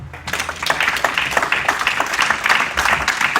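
A church congregation applauds together, a dense, loud, close wash of clapping that goes on steadily for a few seconds, with a few voices mixed in.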